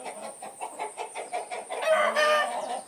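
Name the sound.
chickens clucking and crowing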